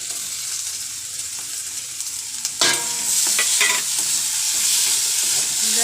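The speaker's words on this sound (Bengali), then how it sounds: "দিয়ে এটাকে ভালোভাবে কষিয়ে নেব।" Chicken pieces stir-fry in a pan with a loud, close sizzle. Partway through, a sharp scrape and clatter from stirring comes in, and the hiss grows stronger after it.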